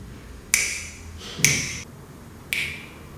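Three crisp finger snaps from a storyteller at uneven intervals, each a sharp bright crack with a short ringing tail, close and clear over quiet room tone.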